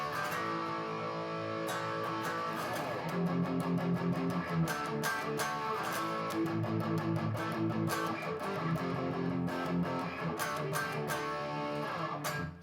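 Electric guitar playing power chords, with a slide down and a slightly distorted tone, strummed steadily and densely throughout without talk.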